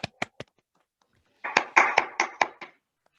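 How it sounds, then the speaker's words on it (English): At a youth dialogue award ceremony, a small audience applauds a second-place finish. Three sharp, separate claps come first, then after a pause a short close burst of several quick claps that stops abruptly into silence. "Let's just applaud the second place first."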